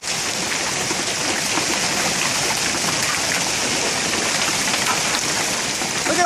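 A heavy hail storm pours down outside, a dense, loud, unbroken roar of pelting ice and water on surfaces that holds steady throughout, with no one speaking.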